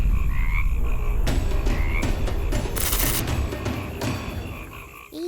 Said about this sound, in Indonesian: Mereka adalah kodok